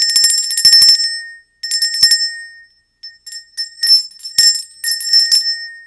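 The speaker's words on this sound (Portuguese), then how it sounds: "Sino." A bright, ringing bell strikes repeatedly in several short clusters separated by brief silences. Each ring is clear and metallic and stands alone without any talk.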